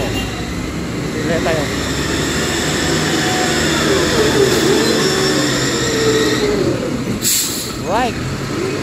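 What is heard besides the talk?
bulldozer working at a factory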